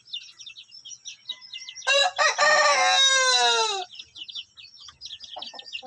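Backyard Belgian Shamo and Shamo Aseel cross chickens, a string of small nearby chirps and clucks broken by one loud, strained crow of about two seconds in the middle.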